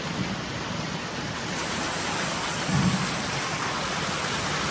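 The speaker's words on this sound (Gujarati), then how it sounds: "જો વરસાદ તો ફાસ્ટ ચાલુ થયો" Heavy rain pours down in a dense, continuous hiss, with a low rumble briefly swelling near the middle; no voices are heard.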